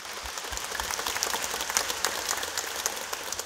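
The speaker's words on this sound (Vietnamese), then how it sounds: "Xin quý cộng đoàn vỗ tràng vỗ tay thật lớn để chúc mừng cho các tân linh mục." A church congregation applauds the newly ordained priests at an ordination Mass, with a steady, dense wash of clapping from a large crowd throughout.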